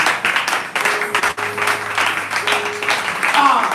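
A church congregation breaks into loud, sustained applause, a dense wash of many hands clapping close by that carries through the whole stretch, with a few voices mixed in.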